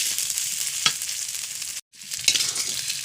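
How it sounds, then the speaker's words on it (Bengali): Chili spice paste being sautéed and stirred in a pan. A bright, steady sizzle carries a few sharp scrape strokes, drops out briefly to silence, then resumes without any voices. "ঝালটা একটু কষানো হয়ে গিয়েছে"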